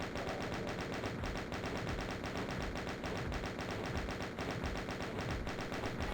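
Sustained rapid-fire chaingun bursts from Doom, a dense, continuous mechanical rattle of shots that stays loud and steady throughout with no pauses or voices.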